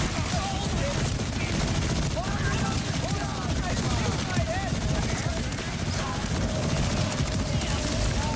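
Enemy gunfire in the Borderlands 4 video game crackles continuously in dense, rapid bursts, loud and sustained without letup across the whole stretch.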